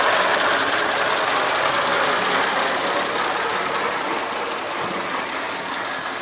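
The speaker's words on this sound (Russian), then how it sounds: "вот такой трактор для доставки туристов" A steady, loud tractor engine chugs continuously with a rattling mechanical knock, a slow tourist-carrying tractor running nearby in Krabi, Thailand.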